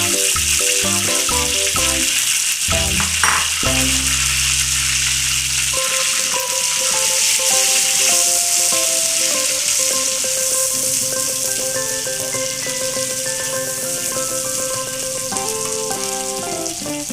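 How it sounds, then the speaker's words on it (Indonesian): Spice paste for Padang-style water spinach balado sizzles and fries in hot oil, a loud continuous crackle that runs throughout alongside background music. "Kita tumis ya Bunda bumbu-bumbunya."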